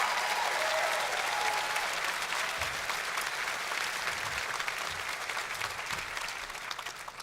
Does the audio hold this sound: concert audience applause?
yes